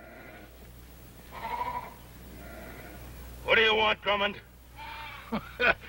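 Sheep bleat in a 1960 Western ranch setting, a few sharp, loud bleats bursting out in short clusters near the end over a low background, with someone speaking before them.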